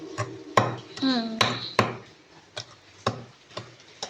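Butter beaten by hand for cake batter makes sharp, irregular knocks of a utensil against a bowl, about eight close, distinct taps with a brief squeaky scrape among them.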